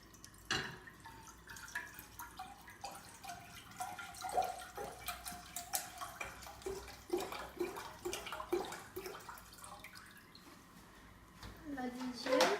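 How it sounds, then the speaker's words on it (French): Water pours from a bottle into a pot of crab soup, a close gurgling, dripping stream in uneven bursts while people talk over it. "Hein, donc on va mettre l'eau."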